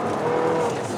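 An Abarth lapping a circuit, its engine a steady close drone with faint tyre noise, held loud and even for a brief second.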